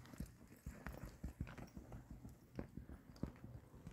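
A mare's hooves clip-clop steadily at a walking pace on firm ground close by, clear uneven knocks with soft shuffling between them and no voices over them.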